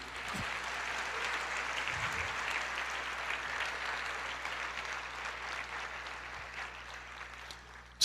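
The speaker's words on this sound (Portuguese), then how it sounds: "Em nome de Jesus, aplauda o Senhor" A church congregation applauds steadily and fairly loudly throughout, a dense, sustained wash of clapping from many hands with no pauses.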